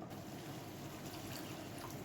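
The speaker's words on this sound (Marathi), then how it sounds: "अर्धा कप पाणी ओतलंय." Steady splashing of half a cup of water poured into a pan of paneer curry, a continuous watery rush with no pauses, close and fairly quiet.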